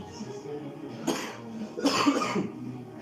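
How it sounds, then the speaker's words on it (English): Two short, harsh coughs from a person recovering from flu, close to the microphone, a single one followed by a stronger burst, over a quiet background. "It's just now the coughing that still remains."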